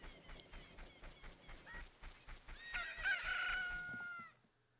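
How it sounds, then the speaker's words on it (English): A chicken pops out of an egg in Zelda: Ocarina of Time, its game-sound clucking and a rooster-like crow rising over a steady rhythmic music beat, then cutting off. "Oh, a chicken hatched from the egg."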